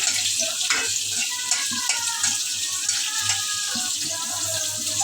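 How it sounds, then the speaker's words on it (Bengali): Chillies frying in a hot pan, a continuous close sizzle with scattered clinks and stirring scrapes, a low hum underneath. "মরিচটা ভাজে নিয়ে আগে"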